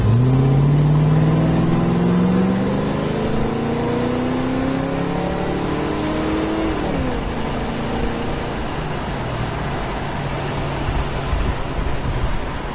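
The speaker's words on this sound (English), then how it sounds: "Just a nice running car, real snotty." A 1993 Ford Mustang engine runs steadily and revs upward at the start, its pitch rising and then settling into a loud, continuous idle rumble.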